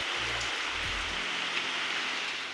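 Rain falls steadily outside during a windy, stormy spell, a soft continuous hiss with a brief low hum near the start.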